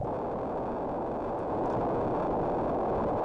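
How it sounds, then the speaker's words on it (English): A computer-music sine tone has its frequency modulated a thousand times a second, blurring into a steady, dense, noisy wash that holds at an even level throughout. "we stopped perceiving individual bleeps and bloops and started perceiving a continuous carpet"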